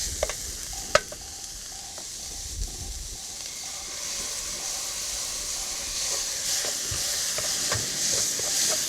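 Beef stir-frying in a pan with two spoons of rice wine, a steady close sizzle and hiss broken by a few clicks and scrapes of stirring, with no talking.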